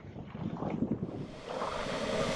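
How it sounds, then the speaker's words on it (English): Strong gusty wind buffets a tent at a winter mountain wild camp in the Lake District, a loud, continuous rushing roar that swells and surges without pause. "that wind does seem to have dropped a bit now"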